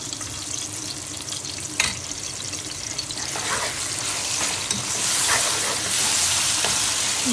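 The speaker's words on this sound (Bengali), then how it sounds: "চামচ দিয়ে আমি ভালোভাবে নেড়েচেড়ে করে পরে দিয়ে দেবো চিকেন" A spoon stirs softened spice paste for chicken korma in a hot pan, with a constant loud sizzle of frying and repeated scraping strokes rising over it.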